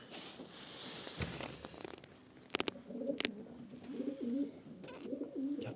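Andijan breed pigeons coo softly in low, rolling phrases in the second half, preceded by a few sharp clicks and rustles nearby, with no talk.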